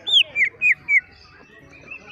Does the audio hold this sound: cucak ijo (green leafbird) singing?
yes